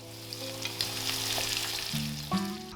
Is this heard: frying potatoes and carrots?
yes